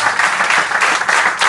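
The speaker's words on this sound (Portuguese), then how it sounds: "Um aplauso carinhoso, gente, pra eles." Audience at a drag stand-up comedy show in Lisbon clapping warmly, a brief burst of dense, close applause.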